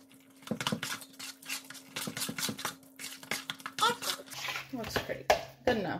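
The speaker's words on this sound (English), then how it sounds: "I'm gonna go ahead and give this a stir." A spoon scrapes and clinks against a dish while a hash brown casserole mixture is stirred, with irregular close scraping taps under ongoing talk.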